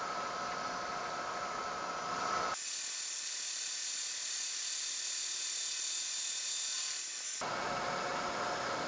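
Milling machine cutting a new gear tooth into a broken gear, a steady hissing, grinding cut that starts abruptly, holds for about five seconds and stops, set against a constant machine hum with no talk.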